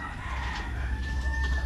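A rooster crows close by in a rural yard, one sustained strained call holding over a low rumbling background with no talk.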